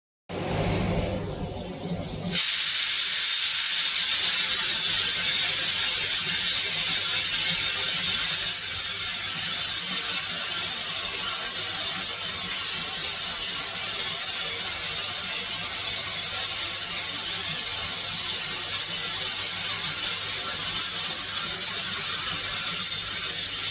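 A pressure cooker holding mutton with chana dal, cooked Agri style, hisses and rattles steadily and loudly for a long stretch after a short quieter opening, a continuous close rushing whistle with a mechanical rattle.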